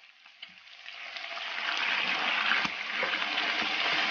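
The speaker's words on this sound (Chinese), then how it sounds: "继续给它煸炒" Pork belly stir-fries in a wok with soy sauce, a sizzle that builds from quiet to a loud, steady hiss with faint scraping as it is tossed.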